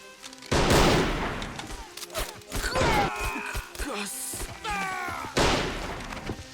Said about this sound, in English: Exchanging a lot of fire.